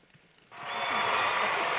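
Audience applause bursts in after a short near-silent lead-in and quickly swells into a steady, dense wash of many hands clapping that holds loud and even to the end.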